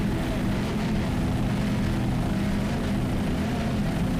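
A 36-foot Sonic Mercruiser Factory 2 racing powerboat with 500 hp inboard engines, running as a steady, loud, continuous low roar with no break.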